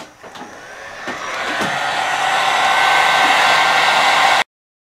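Heat gun shrinking heat shrink tubing over a custom goggle battery pack, a loud steady blowing hiss that ramps up, holds, then cuts off sharply near the end.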